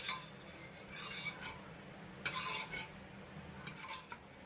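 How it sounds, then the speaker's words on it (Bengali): A spoon scrapes and stirs chopped coriander leaves through cooked dal in a pot, soft irregular rasping strokes close by, quiet and alone with a few sharper clinks of metal. "এবার আমি ডালের ভিতরে অ্যাড করব কিছুটা ধনে পাতা কুচি ভালো করে একবার মিশিয়ে দেবো"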